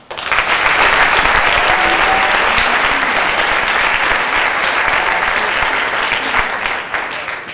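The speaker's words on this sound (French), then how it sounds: "sous un tonnerre d'applaudissements s'il vous plaît" Loud, sustained applause from a large concert audience, dense clapping that swells quickly and holds steady before easing slightly at the end.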